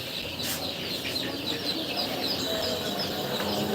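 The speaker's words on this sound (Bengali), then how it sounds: "এটা হচ্ছে গিয়ে বিশ থেকে বাইশ দিন বয়সে চীনা হাঁসের বাচ্চা" Chinese ducklings about twenty to twenty-two days old at a hatchery farm in Khulna, a dense continuous chorus of high peeping from many birds, fairly loud and steady.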